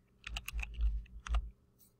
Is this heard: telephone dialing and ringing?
no